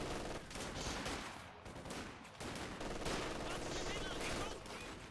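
MG42 machine gun fire in the video game Company of Heroes 2, heard as dense, rapid bursts of battlefield gunfire with brief dips between volleys.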